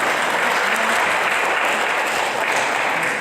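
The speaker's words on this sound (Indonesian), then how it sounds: "Tepuk tangan untuk mereka, Bapak Ibu." Audience applause in a church cell-group gathering, a dense, steady clapping from a sizable crowd close by that stays loud throughout and tapers slightly at the end.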